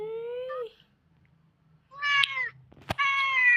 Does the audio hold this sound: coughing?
no